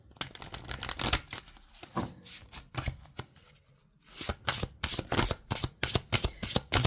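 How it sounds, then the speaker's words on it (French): Oracle cards being shuffled for a tarot-style reading, a dense run of crisp riffling and slapping card sounds, close and fairly loud, with a short lull partway through before a steady rhythmic shuffle resumes alone. "on va faire le premier tirage avec l'oracle du Béline"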